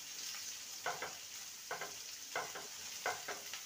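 Onion frying in a pan until light golden brown, a constant soft sizzle broken by four or five short scraping stirs at a regular pace, close but quiet, with no voices.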